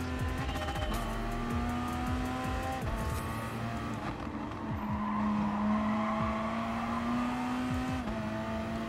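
Race car engine revving and shifting in Gran Turismo Sport, a sustained loud drone with repeated gear changes, throttle lifts and tire squeal running continuously for the whole stretch.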